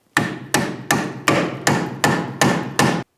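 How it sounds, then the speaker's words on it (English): Eight loud, evenly spaced metallic strikes of a hammer and punch driving a stuck rear shock absorber mounting bolt on a 2007-2014 Ford Edge, each hit ringing briefly before the next, with no talk. "you could use a hammer and punch"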